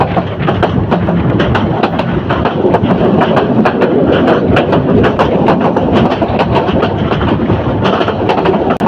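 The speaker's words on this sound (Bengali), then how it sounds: "তো ট্রেনটি ছয়সুতি রেল স্টেশন ক্রস করে যাচ্ছে দ্রুতগতিতে" A train rushes past a station at speed, a loud steady rumble with rapid rhythmic clacking of wheels over rail joints throughout.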